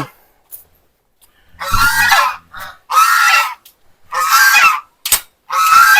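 Ducks hatched and raised on a farm give loud, harsh honking calls in five separate bursts, each lasting about half a second to a second, with short gaps between them and no talking.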